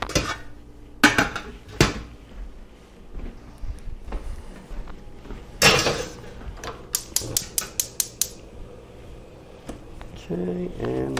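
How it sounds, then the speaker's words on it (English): A pot of water set down on a kitchen stove while making matzo ball soup, heard as loud metallic clanks and knocks with scattered rapid clicks, mixed with nearby kitchen handling sounds and a person talking. "we're going to go ahead and set the pot on the stove right now."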